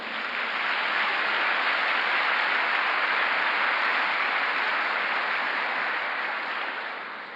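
Sustained applause from a church congregation at a Sunday service, an even, broad roar of clapping that holds steady before tapering slightly at the end.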